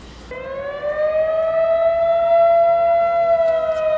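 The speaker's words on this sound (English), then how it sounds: "a mystery siren starts going off half an hour before I'm gonna go into the woods" A siren rises and then holds a long, steady wailing tone, loud and sustained over faint background noise, near the woods on the North Country Trail.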